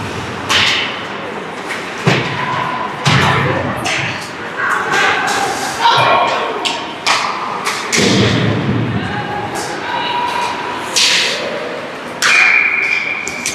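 An ice hockey player in a 14-and-under game is checked against the boards. A heavy thud and rattle land among other thumps, stick taps and skate scrapes in the rink, while a commentator talks throughout.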